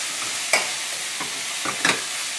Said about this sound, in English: The pork is browning nicely